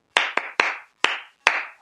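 A man claps his hands five times in an uneven rhythm, imitating his friends applauding every joke from the front row at his comedy show. The claps are sharp, close and alone, with brief silences between them.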